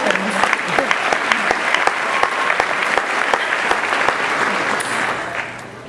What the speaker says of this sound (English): I wanted to start my speech to you by giving you a personal round of applause for getting out of college alive